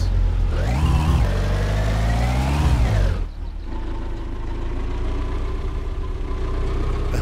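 A car engine in the driving game My Summer Car revs and strains in reverse, loud and close, pitch rising and falling twice before dropping to a steadier lower drone.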